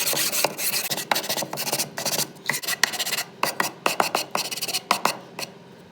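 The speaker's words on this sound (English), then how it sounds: "take your sanding block with 100 grit and break the edges of the handle and the top of the ends" Hand sanding with a 100 grit block, breaking the edges of a wooden toolbox handle and the tops of its ends: close, dry rasping strokes in quick repeated bursts, alone with no talk.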